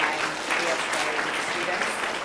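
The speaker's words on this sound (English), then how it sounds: "can we please give another big round of applause to our Year 9" A school assembly crowd applauds Year 9 students with a dense, sustained burst of clapping, steady and loud from start to finish, with faint voices underneath.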